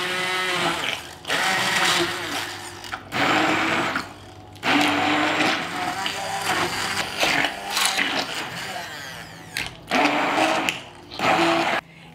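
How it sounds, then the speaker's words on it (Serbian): A stick blender whirs loudly in repeated bursts of a few seconds each with short pauses between them, as it purées liver pâté with melted butter. "i sve ću to izmiksati sa štapnim mikserom."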